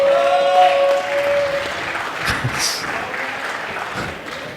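Spectators at a Premier Squash League match between University of Nottingham and Pontefract applaud a shot, a loud burst of clapping that starts with a short tone and gradually dies away.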